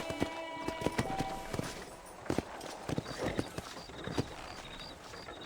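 Horse hooves clip-clopping at a walk in the Red Dead Redemption western game, uneven soft thuds spread over several seconds with faint ambient sound and no talk.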